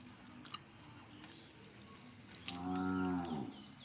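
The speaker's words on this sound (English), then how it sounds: "You heard that confirmation from the cow?" A cow moos once, loud and close, a long drawn-out bellow over a quiet outdoor background with no talking.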